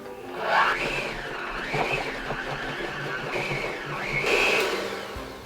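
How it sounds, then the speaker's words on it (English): A handheld electric mixer whips homemade frosting in a bowl, its whining motor rising and falling in pitch as the beaters bog down and speed up, steady and close throughout. "let's switch back to the handheld mixer and see if it'll work better now"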